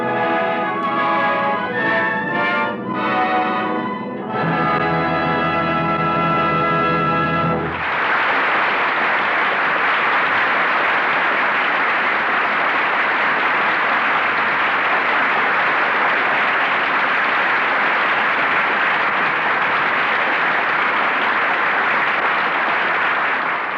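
After a few seconds of orchestral music, a studio audience at NBC Studio 6A bursts into loud, sustained applause for the final curtain of a radio drama, continuing steadily without pause.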